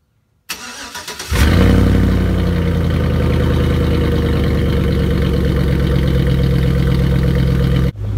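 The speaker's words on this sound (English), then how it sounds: "I just had to do a cold start for you with the new exhaust." A car engine cranks and fires up on a cold start, then settles into a loud, steady, deep rumbling idle with a throaty note from a new axle-dump exhaust, close by, no talking.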